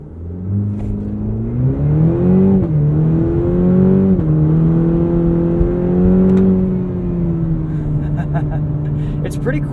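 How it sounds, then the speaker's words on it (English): A 2021 Cadillac CT4 V-Series AWD with a turbo four launching hard from a brake-boosted start, engine note rising steadily through shifts in a loud in-cabin whine that eases off near the end. "Let's do a launch here"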